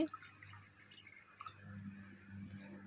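Soft wet squelching and dripping as amaranth greens are squeezed in water, quiet and close, with a low steady hum underneath.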